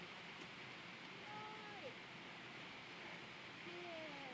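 A waterfall in Nishizawa Gorge, partly frozen in winter, roars as a steady broadband rush of falling water close by, with brief high whistling tones over it.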